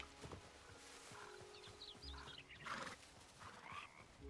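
In the Hytale video game a horse lets out a wavering whinny among clip-clopping hoof steps, with scattered bird chirps and ambient outdoor noise, all fairly faint and close.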